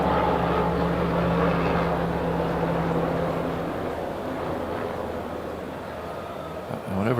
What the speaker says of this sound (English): Sounded like a massive helicopter.